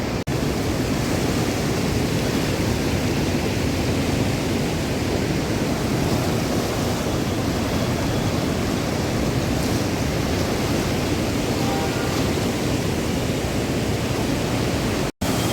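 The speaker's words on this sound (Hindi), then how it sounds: "इतनी ठंडी ठंडी हवा चल रही है माँ गंगा से।" Steady cool wind blowing off the Ganga river at a ghat in Haridwar, a constant loud broadband rush with no breaks, close to the microphone, continuous for the whole stretch without voices.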